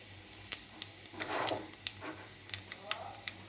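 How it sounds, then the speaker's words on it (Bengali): Black cumin seeds crackle and tick in hot oil that was first lightly browned, scattered sharp pops over a soft frying hiss, close and fairly faint, with no talk. "এবার এই তেলের মধ্যে আমি কালো জিরে দিয়ে দিলাম"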